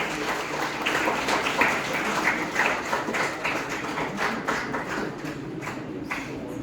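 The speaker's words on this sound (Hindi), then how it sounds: "तालियां बजती रहनी चाहिए।" An audience claps steadily throughout at a formal welcome ceremony for the state education minister at an education institute in Srinagar, Pauri. The sound is a dense, continuous patter of many hands, fairly close and unbroken, with no talk over it.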